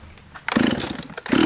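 A Dolmar or Stihl chainsaw is pull-started with the choke on full and the switch off, giving a quick close rasp of the starter cord and a brief sputter of the engine turning over, loud and short.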